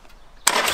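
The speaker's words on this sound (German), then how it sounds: "dann mach mal jetzt den Motor an" A Harley-Davidson motorcycle engine catches abruptly and settles into a loud, steady broadband roar after a brief quiet moment.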